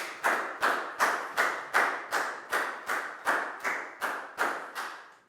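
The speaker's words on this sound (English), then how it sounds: "High five and a big round of applause for Pak Bung, please, guys." A school class claps together in unison, about a dozen sharp, evenly spaced claps in a steady rhythm.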